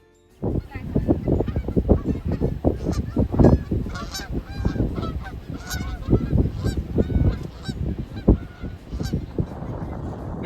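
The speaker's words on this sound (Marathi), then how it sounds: "हे कॅनडा गुस नावाचे पक्षी आहेत" A large flock of Canada geese honks continuously by a roadside, many overlapping calls forming a loud, busy chorus close by.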